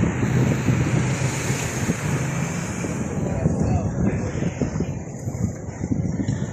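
Wind and surf at a beach edge just behind houses, heard as a constant loud roar of rushing waves and heavy wind buffeting the microphone, with no clear talk.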